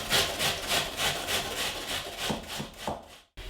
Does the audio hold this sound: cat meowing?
no